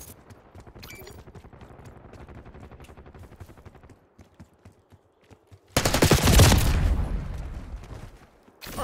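Automatic gunfire from Call of Duty: Black Ops 6, a steady rapid rattle of shots for about four seconds, then a loud, dense burst of heavy fire and explosions that fades near the end.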